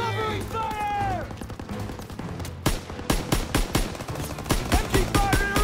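Machine gun fire in a military video game, with a rapid series of loud, close bursts and single shots after a stretch of shouted voices and whistling effects. Soldiers call out over the opening seconds.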